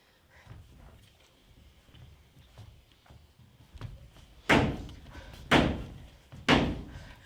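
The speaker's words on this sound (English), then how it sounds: "I hear a knocking at the south entry." A staged stage knocking sound effect for Macbeth: faint scuffs and taps, then three loud, heavy thuds on a door at even intervals, booming and close.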